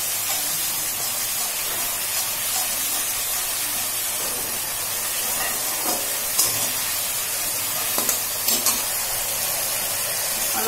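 Onions frying in a pan for a potato and papad curry give a steady, close sizzling hiss that runs throughout, with a few brief sharper crackles near the end.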